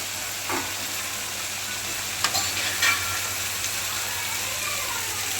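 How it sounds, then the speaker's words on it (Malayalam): Chicken for alfaham frying in a pan of hot, bubbling oil; a dense, close sizzle and steady crackle run throughout, with a few louder pops and stirring knocks. "തിളച്ച് മറിഞ്ഞ് കിടക്കുന്ന കണ്ടോ?"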